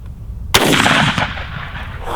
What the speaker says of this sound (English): let's go ahead and shoot a couple more and try to get it stuck into the tree.